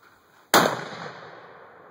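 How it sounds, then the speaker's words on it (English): A rifle shot detonates a tannerite target outdoors, one sudden loud blast with a long fading rumble and ringing tail, no talk. "You shoot the tannerite."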